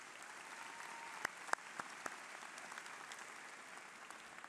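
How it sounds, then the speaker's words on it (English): Applause from the crowd at a high school commencement ceremony, a faint, distant wash of clapping with a few louder, sharper claps standing out nearby. "Let's give her a round of applause."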